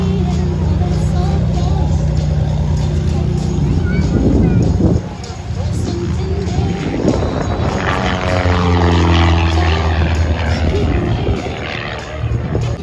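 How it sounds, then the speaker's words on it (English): Propeller trainer aircraft taxiing past the warbird area at the Warbirds Over Monroe airshow, with a loud, steady engine drone that swells and shifts in pitch as they pass close by, under an announcer's voice over the loudspeakers. "Let's give our trainer flight a big wave as they taxi by back to parking over the Warbird area."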